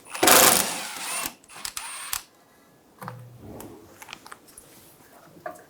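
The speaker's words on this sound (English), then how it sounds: "Using a 12mm socket, remove the bolt for the ABS wire bracket" A 12mm socket ratchet works on the ABS wire bracket bolt of a 2011-2014 Hyundai Sonata, giving short clicking bursts between brief metallic handling noises, close by.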